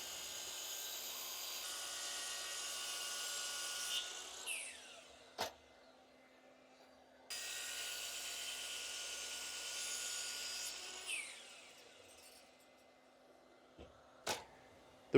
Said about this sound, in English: With the help of a V-groove router bit, I cut a couple of lines through the damaged sections